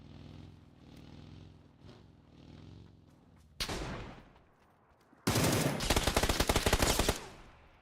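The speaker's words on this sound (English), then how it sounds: "Why are they all shooting me and no one's shooting each other?" PUBG gunfire: after a low engine hum, a sharp shot cracks out, then a loud, rapid burst of automatic fire rattles nearby for nearly two seconds before cutting off.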